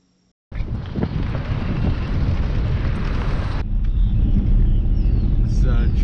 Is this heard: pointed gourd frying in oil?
no